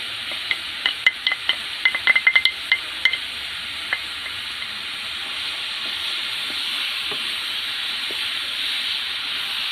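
Mustard seeds hit hot oil in a pan for an Assamese bamboo shoot and carrot dish, bursting into a steady sizzling hiss with a cluster of sharp popping crackles early on, close and alone with no talking.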